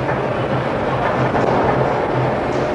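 Train running on rails during an Italian worker's daily commute in the 1950s, a steady loud rumble with faint rhythmic clatter throughout, no voices.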